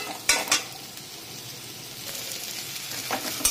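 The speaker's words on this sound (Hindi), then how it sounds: "और शिमला मिर्च के साथ फ्राई कर लेंगे। इसे हम 2-3 मिनट तक लो मीडियम फ्लेम पर इसे हम फ्राई कर लेंगे।" Paneer frying with capsicum in a pan over a low-medium flame, a soft steady sizzle broken by a few sharp spatula scrapes and clinks against the metal.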